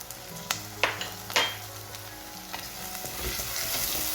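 Chopped tomatoes and onions sautéing in hot oil for a Sri Lankan fish curry, with a steady close sizzle and sharp spoon taps and stirring knocks against the pan near the start, no one talking.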